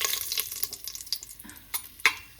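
Dried red chilies frying in a little oil in a pressure cooker: a close, crackling sizzle with sharp pops and spatters scattered irregularly throughout.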